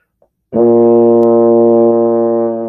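After a short pause, a baritone horn sounds one long, steady low note, full and close, held for about two seconds with no other sound.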